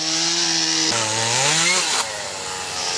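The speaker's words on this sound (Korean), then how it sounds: "키예프 시내에 세워진 십자가를 전기톱으로 절단하는 퍼포먼스를 감행한 것입니다" An electric chainsaw cuts into a large wooden cross erected in central Kyiv during a protest performance, a loud close whine that dips in pitch as the chain bites and then drops off after about two seconds.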